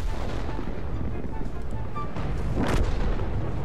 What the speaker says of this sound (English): And they're all firing explosives at each other!